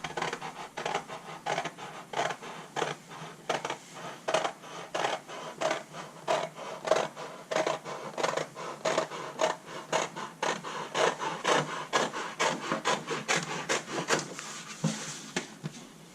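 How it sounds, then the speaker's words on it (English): Scissors cutting out a paper drawing mock-up, with a long run of quick, even snipping and rustling strokes, close and steady throughout. "Let's go ahead and we'll cut this out and we'll tape it up."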